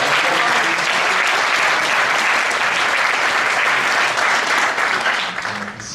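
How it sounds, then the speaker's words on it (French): Audience at a mayors' association study trip gathering in Ireland gives a loud, dense round of applause that holds steady for several seconds before tapering off at the end. "On l'applaudit."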